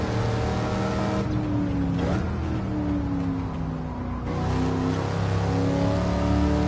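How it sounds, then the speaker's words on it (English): A deep V8 engine of a Pontiac Firebird Trans Am in Gran Turismo 7 revs and roars continuously on the Nordschleife, rising and falling in pitch as it accelerates, loud and close with no voices. "Oh man, that V8 just sounds amazing."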